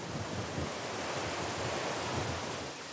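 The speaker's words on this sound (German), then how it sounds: "Heute ist sehr viel Wind aus Nordost." Strong north-east wind roars across the microphone while surf pounds steadily below the chalk cliffs of Rügen on the Baltic coast, a dense, continuous, loud rush with no voices.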